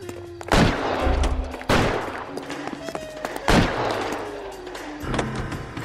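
Four heavy gunshots in the video game L.A. Noire ring out at uneven intervals with echoing tails, mixed with faint background tones like game sound effects.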